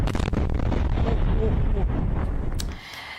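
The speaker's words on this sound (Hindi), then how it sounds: "कोनारक शहर के आसपास आप देखिए इतने तेज धमाके" Explosions go off around Konarak city in Iran: a series of sharp cracks over a deep, continuous rumble that fades away near the end, with a voice faintly audible in the mix.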